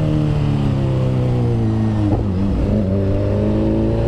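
A Honda Hornet motorcycle engine revs loudly and close, holding a steady high drone before a brief dip and recovery, continuous throughout.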